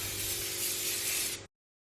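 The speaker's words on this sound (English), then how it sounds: "I like to give it another good spray, usually from underneath" Hairspray hisses from an aerosol can onto freshly curled hair in one steady, close burst of spray that lasts about a second and a half, then cuts off abruptly into silence.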